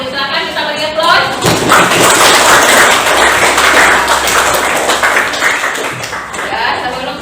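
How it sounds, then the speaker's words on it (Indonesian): Students applaud in a biology classroom, a dense burst of clapping filling most of the span, with room noise and voices mixed in before it fades. "silakan kita beri aplaus"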